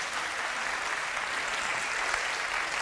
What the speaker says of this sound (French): Vous pouvez les applaudir un peu plus fort,